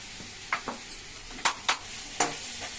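Chopped flat beans frying in a pan with onion paste, a low sizzle under several sharp scrapes and clinks of a spoon stirring against the pan.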